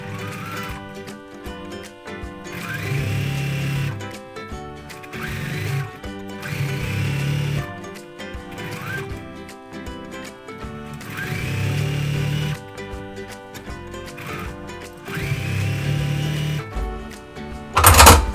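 A sewing machine stitches rows of quilt sampler pieces in repeated short whirring bursts with brief pauses between them, over a steady tonal background.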